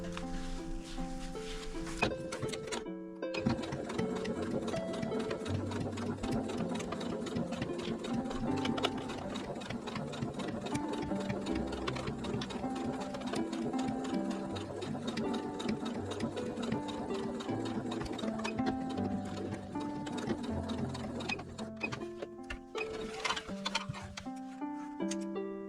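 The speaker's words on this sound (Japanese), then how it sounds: "ここをもう一度端ミシンかけます。" Sewing machine edge-stitching a men's smartphone pouch, running in a steady rapid mechanical patter, close and clear, with a short pause near the start and a few stop-start bursts at the end; no talking.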